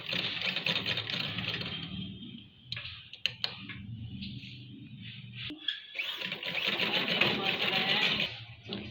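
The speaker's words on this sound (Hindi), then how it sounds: "अब इसको बिल्कुल सिंपल ऐसे मशीन के अंदर रखेंगे और किनारे की हम लोग सिलाई लगा लेंगे" A sewing machine stitches along the neck edge of a kurta, its fast steady needle chatter running close by, pausing midway for a few clicks and handling noises before resuming.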